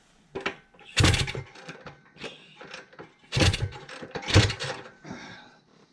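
A 1978 Kawasaki KD175 motorcycle is rocked off its stand up close, producing metallic clunks, scrapes and a few heavy thuds in irregular bursts with quiet gaps between them.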